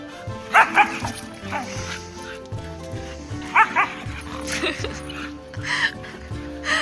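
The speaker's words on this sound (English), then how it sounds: "Oh, barking is so cute." A Siberian husky pulling a cart at night barks in short bursts, a few woofs and yips with pauses between, close by, while people talk over it.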